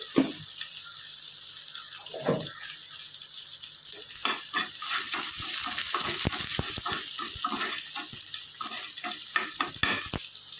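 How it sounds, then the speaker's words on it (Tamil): Dried red chilli breaks apart and sizzles in hot oil while arai keerai kadaiyal is being made, with a steady soft crackle and scattered sharper pops near the pan. "ஒரு காஞ்ச மிளகா கிள்ளி போட்டுக்கிறேன்"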